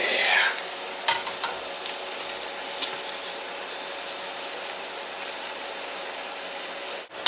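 Tomato juice going into a hot pot of cabbage vegetable soup on high heat and being stirred: a steady sizzling hiss with a few soft scrapes and clinks, close by and with no talking.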